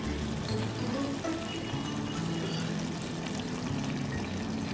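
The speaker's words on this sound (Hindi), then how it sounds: "तो हम क्या करेंगे अभी इसमें थोड़ा पानी ऐड करेंगे।" Water poured into a cooking pot of carrots and raw rice for vegetable pulao, a steady close splashing pour running through the whole stretch with no talk.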